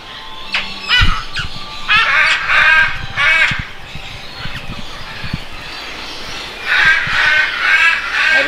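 Crow-like caws and squawks from birds in a zoo aviary in the Oceania section of Loro Parque, several harsh calls in bursts, fairly close, with ambient background hum.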